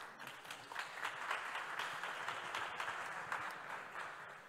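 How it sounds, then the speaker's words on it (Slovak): An audience at a Bratislava regional workshop breaks into applause, a steady wash of many hands clapping at moderate distance, sustained for several seconds without speech. "Ešte raz veľký potlesk pre vás všetkých."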